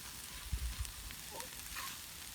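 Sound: potatoes frying in a pan

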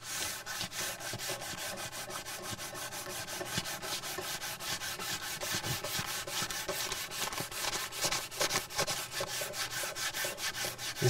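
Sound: hand block sanding a surface

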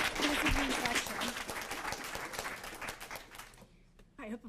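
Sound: audience applause at a lecture

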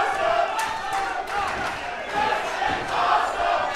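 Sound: wrestling crowd cheering

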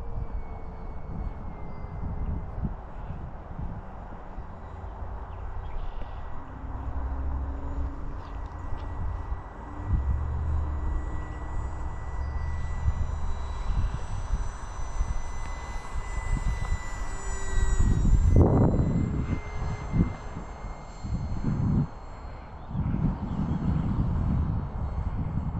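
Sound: radio-controlled model airplane flying

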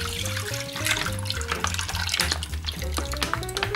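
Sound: pouring milk into a cooking pot

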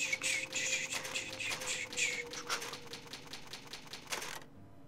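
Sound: typewriter saving the game in Resident Evil Rebirth, from a video game

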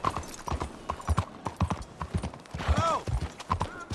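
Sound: horse hooves in video game Red Dead Redemption 2

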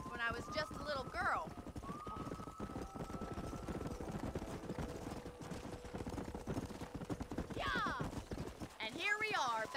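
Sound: horse hooves galloping in the video game Red Dead Redemption

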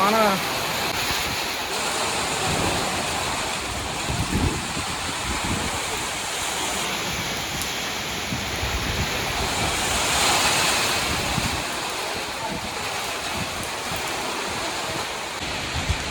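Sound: heavy rain pouring

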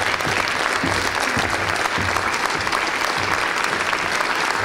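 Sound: audience applause at a ceremony

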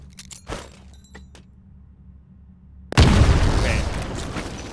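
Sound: grenade explosions in the video game Titanfall

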